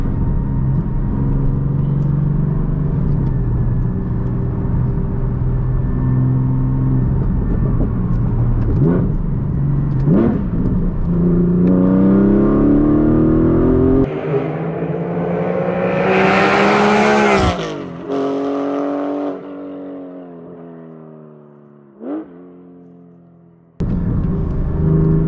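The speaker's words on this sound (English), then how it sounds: "Shut up so you guys can hear the engine." A 2023 Porsche 718 Boxster Spyder with a DeMan 4.5-litre engine howls from behind the driver, revving up through gears with rising pitch, sharp shifts and lifts, then fading to a low idle and cutting off.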